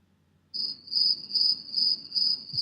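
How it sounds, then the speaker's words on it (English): Crickets chirping in a steady pulsing trill, bright and close, rising in repeated bursts after a brief quiet start with nothing else over them. "You hear them crickets?"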